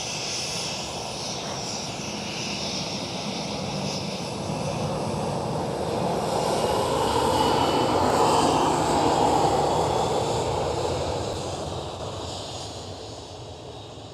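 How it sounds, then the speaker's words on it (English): A Transavia Boeing 737 takes off from Schiphol, its jet roar swelling broadly, peaking near the middle and easing off as it climbs away, heard alone at a moderate distance. "Transavia 737, early rotation"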